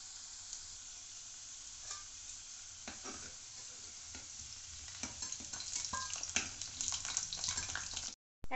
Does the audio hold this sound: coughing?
no